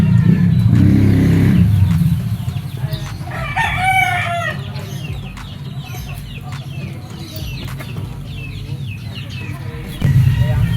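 A Kanawayon rooster, a white streamer with a straight comb and green legs, crows loudly and close by, then clucks and calls briefly, over low outdoor background rumble from traffic.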